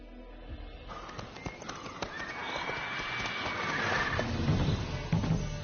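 Roach, Geralt's horse in The Witcher 3: Wild Hunt, moves along with soft clip-clopping hooves and a brief whinny, fairly quiet and steady against faint game ambience.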